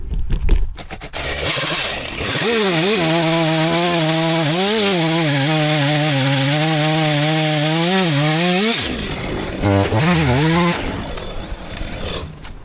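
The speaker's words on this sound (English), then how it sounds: "we'll see how it does grinding out this old black birch stump" A mini skid steer stump grinder chews into an old, solid black birch stump with a loud, continuous engine roar and a grinding whine that rises and dips slightly under load for several seconds, then drops and surges again.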